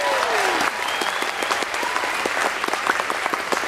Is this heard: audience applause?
yes